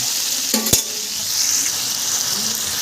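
Tomatoes, onions and curry leaves frying in a pan for a chutney, with a steady sizzle throughout, a couple of sharp stirring clinks early on, and no talking.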